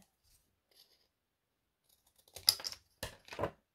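Scissors snip through watercolour paper for a handmade Valentine's card, with a few crisp close cuts toward the end after near silence.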